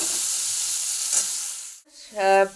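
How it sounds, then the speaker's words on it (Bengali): Onions frying in a wok on a gas stove, a steady bright sizzle that fades out, then a short metallic clink and scrape of a utensil near the end. "গ্যাসে শাকের পেঁয়াজটা ভাজা হচ্ছে"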